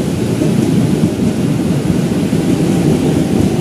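Heavy rain pouring at Jatinegara station as a 12-car commuter train bound for Cikarang pulls into track 6, a loud, steady broadband roar without breaks.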